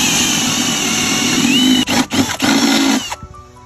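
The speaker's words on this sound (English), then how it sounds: "So I'm gonna drill through this stud here." A power drill whines loudly up close, bogging and surging as it bites through a wooden wall stud, then cuts off near the end.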